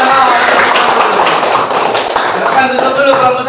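A class of children claps together in a steady, dense patter of applause, close and loud, with some voices mixed in.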